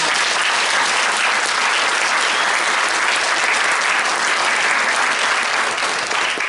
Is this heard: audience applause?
yes